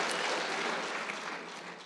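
A graduation convocation crowd claps in a short burst of dense applause that fades slightly toward the end, heard alone without talk.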